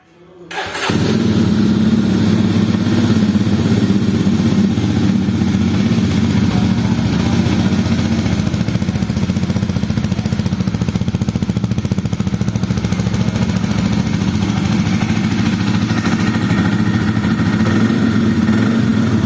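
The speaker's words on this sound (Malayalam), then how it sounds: "എനിക്കിതിൽ ഏറ്റവും ഇഷ്ടപ്പെട്ട ഈ ഒരു ബൈക്കിൻ്റെ സൗണ്ടാണ്" A new 2024 Jawa 350 motorcycle engine fires up and settles into a loud, steady, close idle with an even, thumping exhaust rumble that holds for the rest of the stretch.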